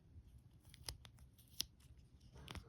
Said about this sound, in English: for this I'm gonna use scissors. Cut off this excess because I made it a little bit too big.